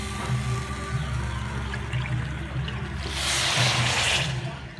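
Water pours onto sugar in a pot for syrup, heard as a low trickle over faint background hum, then a brighter, louder gush of pouring in the last couple of seconds.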